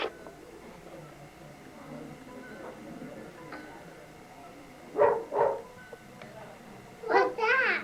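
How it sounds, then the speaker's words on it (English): A family dog at home gives a few short barks partway through and again near the end, moderately close, under ongoing background chatter and household noise. "The dog barked."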